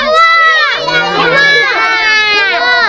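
Children at a Flag Day quiz game shout answers out of turn, a loud chorus of overlapping high young voices calling out together and stacked close to the listener, with a lower adult voice briefly underneath.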